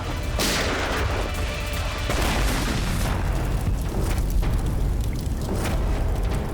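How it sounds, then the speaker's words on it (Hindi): A booby-trap bomb explosion bursts out early, followed by rumbling debris and crackling blasts that continue in a dense, noisy wash. "जैसे बैग से ये नोट बाहर गिरे, बॉम्ब ट्रिगर हो गया।"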